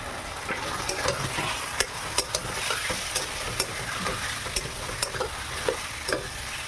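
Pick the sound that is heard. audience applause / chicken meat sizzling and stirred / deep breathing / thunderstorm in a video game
chicken meat sizzling and stirred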